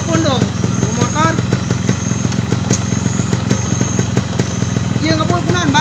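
A motorcycle engine runs at a loud, close, rumbling idle with occasional revs and a clattery mechanical texture, while people talk over it.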